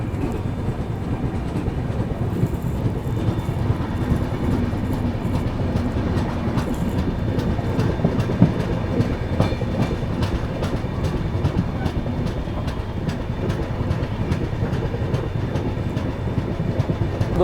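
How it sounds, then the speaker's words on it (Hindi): Dehradun–Subedarganj Express pulling out of Kanth railway station, with a steady rumble and rhythmic clickety-clack of coaches running continuously at close range. "यहाँ पर अपनी जो है देहरादून सूबेदारगंज एक्सप्रेस निकल चुकी है कांठ रेलवे स्टेशन से"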